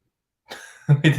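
A short cough, a faint rasp followed by two sharp, loud hacking bursts close by, with no talking.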